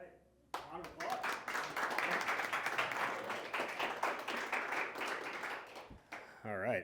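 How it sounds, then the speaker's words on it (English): An audience claps for a startup pitch at a fintech and AI showcase event, breaking into dense, sustained applause that lasts several seconds before a voice speaks briefly at the end. "All right. Round of applause."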